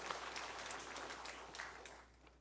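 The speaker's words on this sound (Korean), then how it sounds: "우리 박수로 환영하겠습니다" Applause from a church congregation welcoming members at a Sunday worship service, a steady wash of clapping filling the room, fairly faint and distant, fading out near the end.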